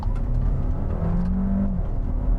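A 2025 Cupra Terramar plug-in hybrid SUV accelerates hard from a standstill toward 60 mph, a loud close engine whir and rising drone heard from inside the cabin, with no speech.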